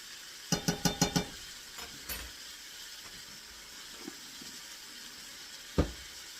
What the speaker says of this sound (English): So I'm going to go ahead and add my minced garlic.